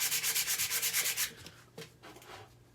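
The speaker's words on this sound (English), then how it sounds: "I'm going to use this sandpaper and I'm going to do what I can with it" Sandpaper rubs back and forth on a knife handle scale from a Grohmann No 4 kit, about ten quick rhythmic strokes close up, then a pause and a few slower, scattered scrapes.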